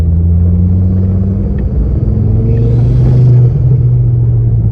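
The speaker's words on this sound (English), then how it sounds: "I'm going to try and let you guys hear the high-pitched whining noise I was on about" A Ford Focus ST225 engine under turbo boost above half a bar sends out a loud, steady low rumble with sustained tonal layers and a faint high whine riding over it, heard from inside the car without talk.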